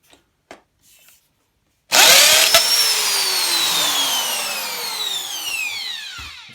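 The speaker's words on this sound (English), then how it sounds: "we're going to need to do in order to swap out this part is to drill out this rivet" A power drill with a 5mm bit spins up loudly after a few faint clicks and keeps whining steadily, drilling out a metal rivet on a pushchair chassis, its pitch sliding slowly downward as it works.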